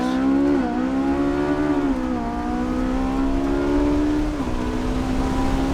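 A mid-engined, rear-wheel-drive Ferrari downshifts hard, its engine note stepping up in sharp pitch jumps as the revs climb with each gear change, loud and continuous with no talk over it.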